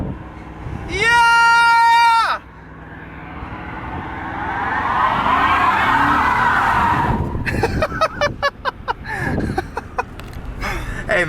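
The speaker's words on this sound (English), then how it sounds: "I think she's doing a burnout, dude." A Tahoe doing a burnout, with a sharp high squeal at the start, then a rising engine roar and hiss of spinning tires building for several seconds before breaking into choppy, rattling bursts.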